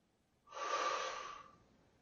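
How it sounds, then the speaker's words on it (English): One deep, breathy exhale during a yoga stretch, a soft airy rush that swells for about a second and fades, close and alone with no talk. "Take 2 more deep breaths here."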